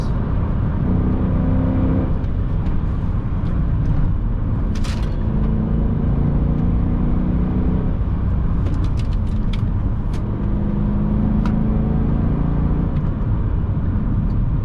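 A rare AMG car is driven fast through a chicane on a favourite stretch of road, its engine rumbling loud and close from inside, the note rising and falling with brief sharp clicks and revs through the turns.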